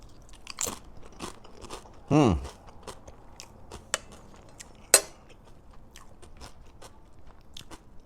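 Close crunching bites of crisp Miss Vickie's chips eaten with sardines, a few sharp crunches spaced apart with quiet chewing between, no talking.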